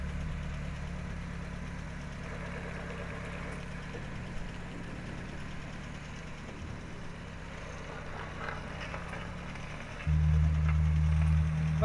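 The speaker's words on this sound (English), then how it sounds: "Driving a DS on three wheels." Citroen DS engine running steadily while the car drives on three wheels, a low, even mid-pitched hum with a rise in low rumble near the end.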